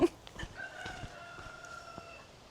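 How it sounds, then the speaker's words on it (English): A rooster crows once in the distance, a drawn-out call rising and holding, with faint outdoor background noise and a few scattered clicks. "Cockerel."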